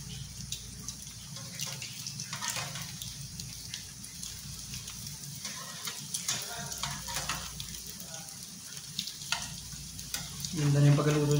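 Food frying in a pan over low heat while a breakfast sandwich is cooked, heard as a steady, soft crackling sizzle throughout, with faint clinks and a louder clatter near the end.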